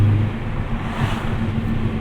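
A turbocharged 2008 Chevrolet Cobalt SS pulls away in second gear on a highway, heard from inside the cabin as a steady low engine drone with road rumble, continuous and fairly loud, no talk.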